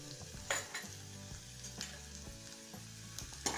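Red chilli powder and salt are roasted in oil for a potato and cabbage curry: a soft, steady sizzle broken by a few spoon scrapes and stirring knocks in the pan.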